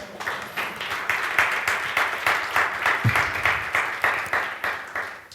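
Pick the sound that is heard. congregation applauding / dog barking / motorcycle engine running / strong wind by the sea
congregation applauding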